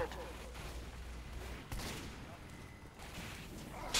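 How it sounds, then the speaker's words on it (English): Explosive bursts from the default rocket launcher in the shooter Team Fortress 2 punctuate busy match noise, with sharp blasts at intervals over a continuous rumble of combat. "Using the default rocket launcher."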